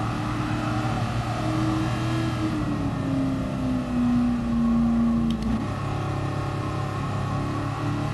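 A 1966 Shelby Cobra 427 V8 in GT Sport holds a steady, loud engine drone as it climbs through fourth gear past 200 km/h. The tone rises gradually, then drops abruptly near the end as the throttle comes off.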